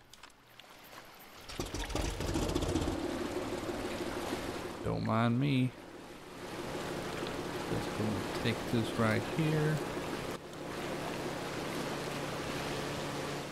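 A motorboat engine in the video game Far Cry 2 drones steadily through most of the stretch with water wash around it, a voice talking over it in places.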